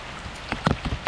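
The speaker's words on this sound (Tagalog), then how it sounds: "Wala na, umulan na." Rain falls outdoors during a trapping trip, a steady close hiss with a few sharper drops spattering on a nearby surface.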